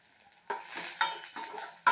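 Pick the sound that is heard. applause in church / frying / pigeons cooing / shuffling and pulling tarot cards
frying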